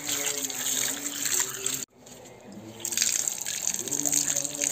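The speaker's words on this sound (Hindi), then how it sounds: "हम हाथ पैर धोएंगे, उसके बाद अंदर जाएंगे मंदिर के। आ रहा पानी?" Water runs steadily from a tap at a temple entrance where people wash their hands and feet, a continuous splashing gush with a brief break, close by, with faint voices around.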